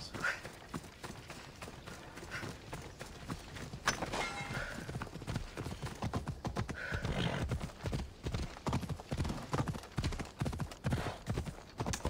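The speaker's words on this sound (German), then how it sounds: "Ja, komm, ich hol mal das Pferd raus." Horse hooves clip-clop at a steady run in Assassin's Creed Odyssey, close and continuous for the whole stretch, with a brief whinny and game sounds in the mix.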